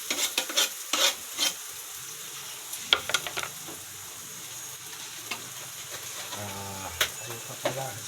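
A kilo of shrimp goes into a hot pan and fries, giving a low steady sizzle broken by sharp clatters and scraping stirs. A voice is heard faintly in the background.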